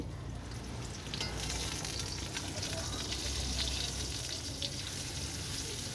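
Pieces of teasel gourd (kakrol) fry in a pan on a gas stove in a home kitchen with a continuous, moderately loud sizzle and faint kitchen noise around it.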